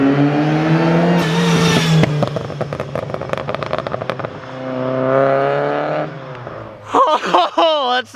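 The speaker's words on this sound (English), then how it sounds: "little bit of a burble tune just so we get some snap, crackles, and pops" A Mazda Miata with a burble exhaust tune revs hard close by, rising and falling engine notes broken by rapid bursts of crackling pops and snaps on the overrun, loud and right at the microphone.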